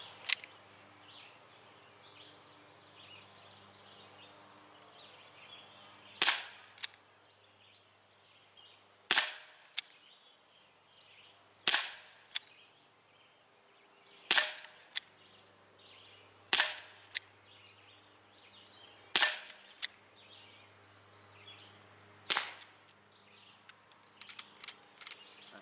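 An ASG Dan Wesson 4-inch CO2 BB pistol fires at a target 20 feet away: sharp, snappy pops ring out one at a time, about seven in all, spaced a few seconds apart, with quiet in between and no talk.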